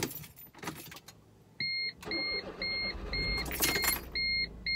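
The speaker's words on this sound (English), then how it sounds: "So I'm gonna start my car." Car keys jangle close by at night, then a car's repeated two-tone electronic chime beeps in short bursts as it is started, with a low engine rumble underneath.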